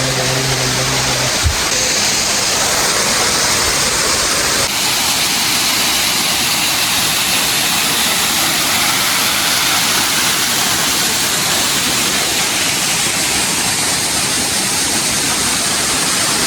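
A large waterfall on an off-road trail roars as a loud, constant broadband rush that fills the whole stretch, close and overwhelming, with a brief thump near the start.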